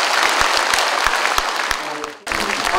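Audience of city officials clapping steadily at a mayor's retirement ceremony in Mungyeong, a dense, close round of applause that briefly dips and then resumes.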